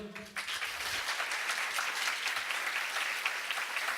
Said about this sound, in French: Michel Saran, que l'on peut applaudir